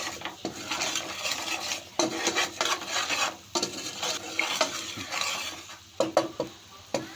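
Masala paste of ginger-garlic and pav bhaji masala cooks in a pan while being stirred, giving a steady close sizzle broken by scraping and clinking of the spoon against the pan, with no voices.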